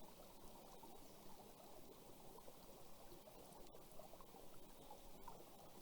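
Water being poured at a campsite on a bushwalking trip, a faint, steady trickling and gurgling stream with soft outdoor background.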